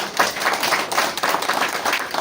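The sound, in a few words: applause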